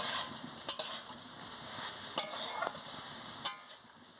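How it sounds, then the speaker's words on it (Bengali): Telakucha leaf chorchori is stirred and fried in a pan, with a soft sizzle behind intermittent scraping spatula strokes and sharp clicks that come every second or so. "দেখুন বন্ধুরা, আমি ভালো করে এটাকে কষিয়ে নিচ্ছি"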